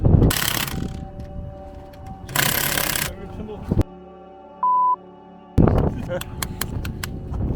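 Ratchet wrench clicking as a bolt is tightened on a prototype car during work on its first test, bursts of rapid ratcheting separated by pauses, close and loud, with a brief tone partway through.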